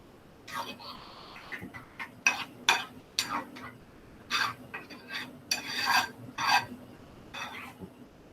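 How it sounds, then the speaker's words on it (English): A utensil stirs food in a pot in a busy kitchen, scraping and clinking in irregular bursts against the metal, close and moderately loud, with brief talk between strokes. "And as it's going, just keep stirring"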